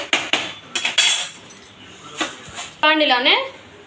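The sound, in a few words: transferring fried food into another vessel, utensils clinking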